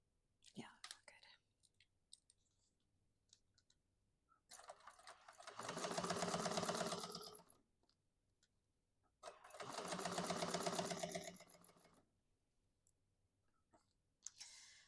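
An industrial sewing machine stitches a bag in two sustained loud whirring runs of a few seconds each, separated by quiet gaps filled with small clicks, handling noises and soft whispered speech.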